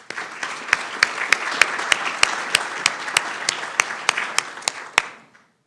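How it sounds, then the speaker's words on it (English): Applause for a candidate at a Burke County candidates' forum: a thin, steady patter of a modest crowd clapping for about five seconds, punctuated by regular sharper claps, then quickly fading out. "Let's give Candidate Marlowe a round of applause"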